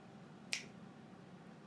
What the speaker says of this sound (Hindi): फिजिकली चुटकी मारो